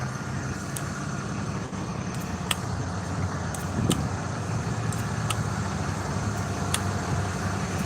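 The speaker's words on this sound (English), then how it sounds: "they got some big trucks here." Large trucks rolling past on a rural road in Tillamook, Oregon, a steady, fairly loud traffic rumble with engine drone and occasional sharp clanks, no talking.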